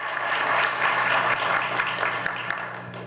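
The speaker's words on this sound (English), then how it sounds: "let's give them a round of applause." Dense, steady applause from a luncheon audience at a teacher of the year awards event, filling the room at an even level for a few seconds with no speech over it.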